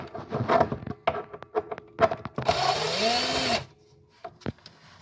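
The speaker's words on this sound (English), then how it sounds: "I'll go around and just take all the screws out, making sure not to lose them." Screws are backed out of a Ludwig gold sparkle bass drum shell during a restoration. A few sharp clicks and taps lead into a whirring one-second driver burst, then a last knock.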